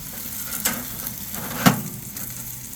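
A big ribeye steak sears on a Big Horn infrared grill with a steady close sizzle, broken by two sharp crackling pops.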